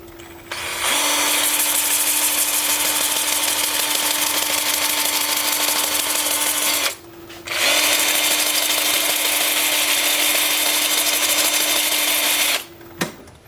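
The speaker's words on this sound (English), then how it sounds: "with the lathe spinning in reverse at about 350" A wood lathe spins in reverse at about 350 rpm while a vase or bowl is turned, making a loud, steady whine with a motor tone; it runs in two long stretches separated by a brief stop.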